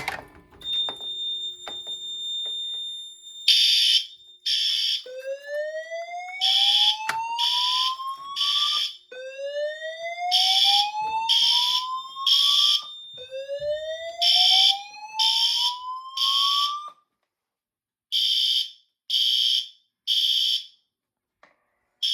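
A Notifier NFS2-640 fire alarm system under test sounds loud rising sweeps, each followed by a cluster of sharp horn pulses, repeating in a regular cycle with a few brief pauses.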